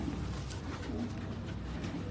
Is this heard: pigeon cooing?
yes